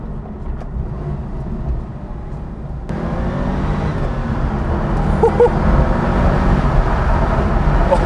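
A Porsche 993 Gemballa Turbo engine accelerates from inside the cabin, a steady low rumble that jumps in loudness and keeps building as the revs climb.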